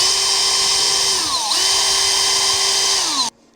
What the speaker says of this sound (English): I am just going to quickly drill them into each of the pieces.